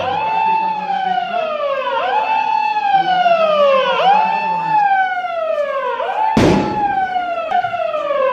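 Civil defence mock drill sirens wailing loudly and continuously, rising and falling in repeated two-second sweeps, with a sharp thump near the end.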